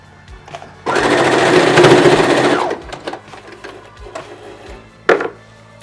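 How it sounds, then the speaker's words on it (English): A sewing machine stitches down a fabric scrunchie in one steady, loud burst of motor whir lasting about two seconds, followed by quieter handling clicks and a short knock near the end. "Then you stitch it down."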